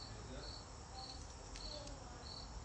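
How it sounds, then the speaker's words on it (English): A cricket chirps in short, evenly spaced pulses, faint and steady over a quiet background hiss, with no talking. "there's a cricket I hear right now"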